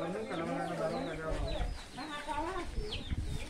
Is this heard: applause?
no